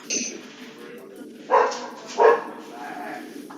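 A dog barks twice in quick succession at close range, loud sharp yaps at about one and a half and two and a quarter seconds, with a short yip at the start and people chatting quietly around it in a room during a break from a tabletop game.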